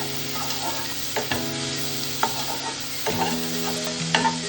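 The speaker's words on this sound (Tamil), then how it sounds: "கூடவே நல்லா பொடியாக கட் பண்ண வெங்காயமும் ஆட் பண்ணி நல்லா வதக்கிக்கோங்க." Onions and green chili sautéing in butter and oil for nei sooru, a steady close sizzle with repeated scrapes and taps of a spatula stirring the pan, no talk.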